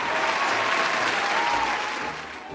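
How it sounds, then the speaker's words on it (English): A short burst of crowd applause, dense and steady clapping that fades slightly toward the end, with no voices over it. "give the Epic Mickey Wiki mods a round of applause"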